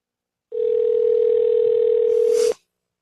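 Telephone dial tone, a steady unbroken hum lasting about two seconds, clear and alone before cutting off with a brief click.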